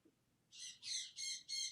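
A pet bird lets out four loud, harsh squawks in quick succession, each a short rasping burst with brief gaps between, close by over a quiet room background.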